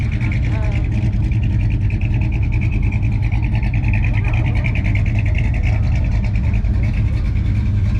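Several car engines run steadily at an outdoor car show in Euharlee, Georgia, a continuous loud rumble that fills the scene, with voices and crowd chatter mixed into the background.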